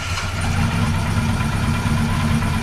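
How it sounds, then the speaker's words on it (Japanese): A Kawasaki Z1 motorcycle with a KZ900 engine in a KZ1000 frame runs at idle, a loud, close, steady mechanical rumble with no voices. "じゃあまずエンジン始動と"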